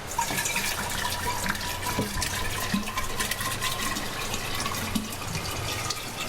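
Water running steadily from a tap into a container, a continuous broadband rush with some faint clinks and low background rumble throughout, no talking.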